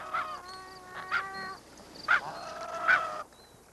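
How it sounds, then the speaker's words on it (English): Pelicans call from a nesting island in a flooded pan, giving several harsh, honking cries, some drawn out and some short, fairly close over quiet outdoor background. "pelicans have come to nest on an island in the flooded pan"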